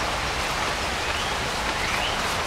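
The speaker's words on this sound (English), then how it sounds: "It's raining again." Rain falls outdoors near a Wisconsin garden, a steady soft hiss of drops without pause, faint and even throughout with no voices.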